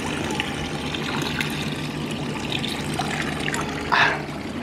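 Water runs steadily from the Pilar del Toro stone fountain beside Santa Ana in Granada, a continuous trickling splash outdoors with a brief brighter splash near the end.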